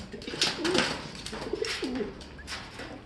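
Pigeons coo in a loft, several soft rolling calls overlapping at close range with a few flutters and chirps, no talking.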